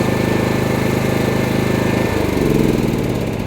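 Champion CPG7500E2-DF-EU 7.0 kW dual-fuel generator engine running on LPG, a loud, close, steady engine roar whose pitch drops noticeably about two seconds in.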